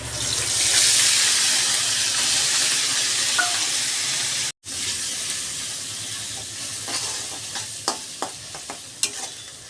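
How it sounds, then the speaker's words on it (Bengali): Onion and garlic frying in hot oil with bay leaf, whole garam masala and cumin in a pan, a loud continuous sizzle with stirring, then scattered clinks and scrapes of a spoon as it eases off. "পেঁয়াজের সাথে রসুনটাও একসাথে ভেজে নেবো"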